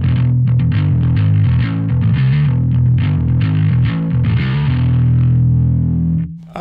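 Bass guitar played through Two notes Genome amp simulation, a loud, distorted run of picked notes with a gritty, driven tone, ending in a held note that cuts off abruptly.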